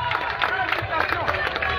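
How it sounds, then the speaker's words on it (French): A crowd at a political rally in Gabon, at a roundabout in Nzeng-Ayong, gives a short burst of applause and cheering babble at moderate level. "Applaudissez quand même pour mon fils, s'il vous plaît."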